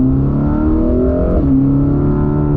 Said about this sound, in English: I hear the flat plane crank in there.